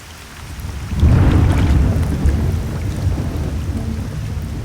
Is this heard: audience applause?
no